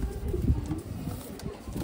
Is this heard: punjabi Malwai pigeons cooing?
yes